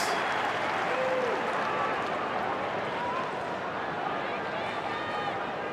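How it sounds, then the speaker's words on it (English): Broad roar of applause and crowd noise from Collingwood fans at a 2012 AFL match against Port Adelaide, a dense, steady wash filling the stadium with a commentator talking over it. "Huge amount of applause again from the Collingwood fans."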